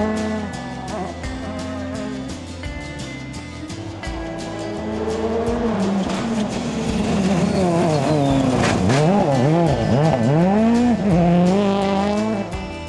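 A Ford rally car on a special stage of the Tour de Corse or Limousin rally, its engine revving hard through gear changes, climbing and falling in pitch as it passes close by, loud throughout.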